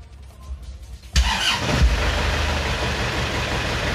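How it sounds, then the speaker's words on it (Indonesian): An Isuzu Panther engine cranks and catches after about a second of quiet clicking, then settles into a steady, close, loud idle as it warms up, with no talk over it. "kita panasin dulu mesinnya"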